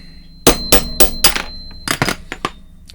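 Sharp metallic blows of a small hammer on a seized, rusty gear stick of a Slavia 618 being restored, four evenly spaced strikes followed by a quicker uneven cluster, loud and close.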